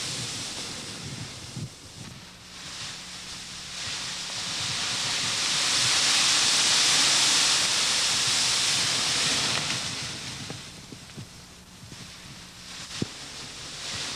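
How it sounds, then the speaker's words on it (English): Seawater rushes into an open lava tube mouth at Kilauea's ocean entry and flashes to steam, a broad roaring hiss that swells to a loud peak and then eases back, with faint rumbles beneath. "Concealed beneath clouds of swirling steam, waves of seawater are rushing into the open tube mouth. The water flashes to steam,"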